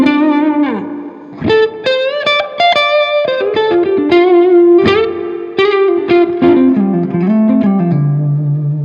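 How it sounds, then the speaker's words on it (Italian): An electric guitar played through a single amp and pedal rings out a handful of sustained notes and chords drenched in lush reverb and delay, each note blooming and trailing off into a long, spacious decay, loud and alone. "suoni 2 note con un suono bello, un bel riverbero, un bel delay"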